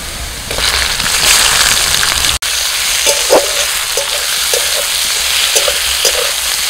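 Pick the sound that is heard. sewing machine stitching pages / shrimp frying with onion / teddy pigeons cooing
shrimp frying with onion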